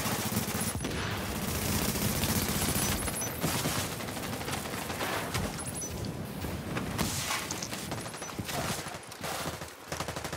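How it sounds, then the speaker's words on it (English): Dense, sustained gunfire from turrets in a combat video game, a loud, unbroken barrage of overlapping shots with mechanical clatter running throughout. "And now I'm getting shot from behind as well."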